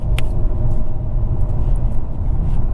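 A loud Nissan Skyline R34 GT-R turbocharged engine rumbling steadily up close, with a brief high turbo whistle near the start.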